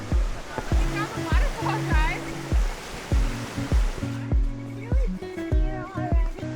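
A waterfall in the Canadian Rockies near Banff and Jasper roars as a steady rushing wash beneath louder rhythmic music, with the roar fading partway through.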